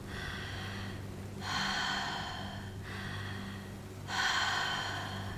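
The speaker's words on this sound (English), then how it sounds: "We start to breathe a little faster now." Fast, deep breathing during a guided breathwork exercise, two long loud breaths heard up close in a quiet room with a soft steady hum beneath.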